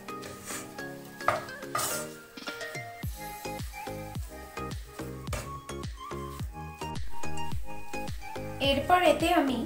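A spoon stirs a paneer masala mixture in a pan, giving a quick series of close metallic clinks and scrapes with a faint sizzle underneath.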